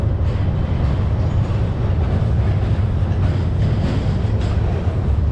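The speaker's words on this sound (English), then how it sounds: "We got a train coming across this bridge." A freight train, including hopper cars, crosses an old steel bridge in Springfield, Massachusetts, making a loud, steady rumble and rattle of wheels on the steel span that runs unbroken throughout, with no voices.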